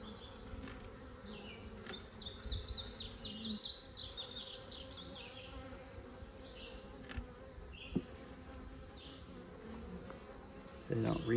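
Bees buzz around a rescued hive, a steady close-up drone with shifting higher whines as individual insects fly near, alongside occasional handling knocks.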